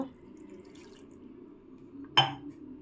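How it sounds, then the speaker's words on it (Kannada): Water splashes into a cooking pan of cumin for Mandya-style massoppu sambar, one short sudden pour standing out from a quiet kitchen background. "ಜೀರಿಗೆ ಆದಮೇಲೆ ಸ್ವಲ್ಪ ನೀರು ಸೇರಿಸ್ಕೊಳ್ಳೋಣ"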